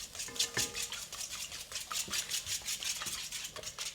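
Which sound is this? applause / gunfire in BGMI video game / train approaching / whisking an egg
whisking an egg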